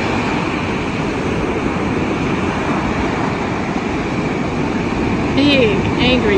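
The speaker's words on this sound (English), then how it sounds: "Big, angry waves." Big ocean waves churned up by Tropical Storm Karen make a continuous, loud, wind-blown roar of surf, and a voice briefly speaks near the end.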